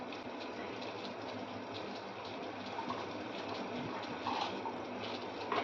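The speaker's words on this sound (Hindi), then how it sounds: "अब इसको थोड़ा भिगाते हैं हम पानी में ताकि" Water poured over lentils to soak them, a steady close gushing pour lasting several seconds without a break, growing slightly louder toward the end.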